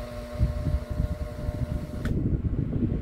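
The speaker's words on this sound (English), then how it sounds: "turn the fan on high" A Westinghouse 12-inch oscillating desk fan on high setting whirs with a low rumbling hum and a brief click as it starts up, steady and close.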